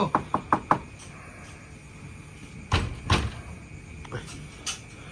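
A door being knocked on during an immigration raid on an undocumented migrant settlement under a Kuala Lumpur flyover, four quick sharp raps followed by heavier bangs and thumps, with voices shouting nearby.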